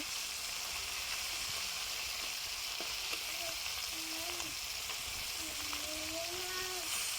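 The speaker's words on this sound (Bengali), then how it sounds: "আমি সবগুলো মাছ আস্তে আস্তে উল্টে নিব।" Tengra fish frying in a pan as the pieces are turned, giving a constant dense sizzle with faint scraping and clinks from the utensil over the top.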